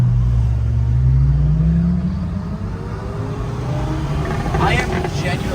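A Jaguar F-Type engine rumbles loud and close with a deep, steady drone, its pitch sliding through a rev before settling, crowd noise faintly behind at a rally.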